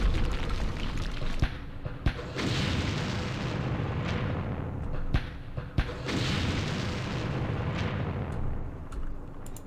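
Rocket explosions in the Campaign Series Vietnam war game, Battle of Hue: repeated heavy booms and sharp blasts over a constant rumbling background, several distinct hits landing at irregular intervals.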